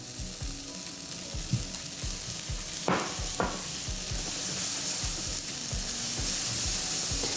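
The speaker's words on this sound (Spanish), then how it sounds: "estamos aquí salteando la cebolla, el champiñón y los espárragos trigueros" Onion, mushrooms, wild asparagus and peas sauté in a hot pan with steady close sizzling. Stirring scrapes and clacks sound through it, with a couple of sharper utensil knocks partway.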